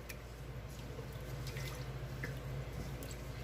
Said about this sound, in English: You want to see all that water run clear before you start to cook the rice.